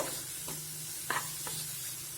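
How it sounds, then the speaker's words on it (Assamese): Steady sizzling of bottle gourd frying in a pan, with a few soft scraping stirs breaking through the hiss; no one speaks. "পানীলাওখিনি এনেকৈ ভাজি আছোঁ"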